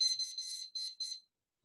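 A timer alarm beeps in a quiet room, five short high-pitched electronic pulses in an uneven rhythm, fairly soft and then cut off into silence.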